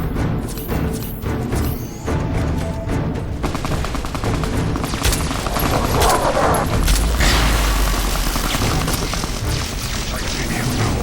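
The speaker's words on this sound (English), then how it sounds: "What are you even shooting at me?" Dense gunfire crackles and booms almost without a break in a Fallout Tale of Two Wastelands game session, with sustained rapid shots and heavier blasts, loud and close, as a voice speaks over the shooting.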